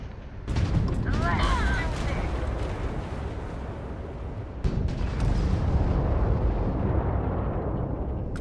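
Gunfire from weapons in the space game Starfield, a dense, continuous barrage of loud shots and blasts with a brief lull partway through, heard alone without talk.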